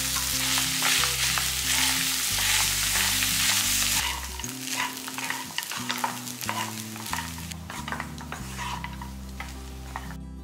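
Cooked rice is stirred into black urad dal and sesame powder in a pan, giving a steady scraping and rustling of a spoon against metal over a persistent low background hum, with no one talking.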